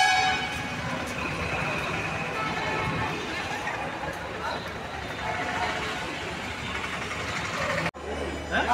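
A train horn sounds at Dibrugarh railway station as a long, steady tonal blare over busy platform noise, cutting off abruptly near the end.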